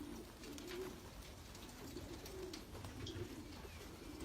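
Pigeons coo around a breeders' loft on a Friday morning, soft low rolling coos repeating every second or so over a steady outdoor hum, moderately close and fairly quiet.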